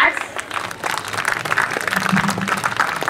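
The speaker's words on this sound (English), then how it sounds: "please give a bigger round of applause" An audience claps steadily throughout, a dense, continuous wash of applause in a hall, with a voice speaking over it.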